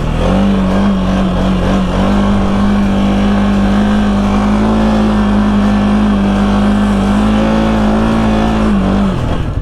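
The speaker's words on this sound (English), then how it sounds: "Man, I love this 700, dude. It's such a good quad." A 700-class four-wheeler quad ATV engine drones steadily and loudly close by while riding, holding a constant pitch for nearly ten seconds before easing off at the end.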